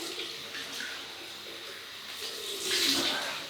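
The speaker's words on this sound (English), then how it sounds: "we'll rinse off with some cold water" Cold tap water runs steadily as a Merkur 43C safety razor is rinsed at a sink, a continuous hiss that swells louder near the end.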